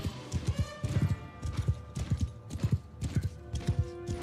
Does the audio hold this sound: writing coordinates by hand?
no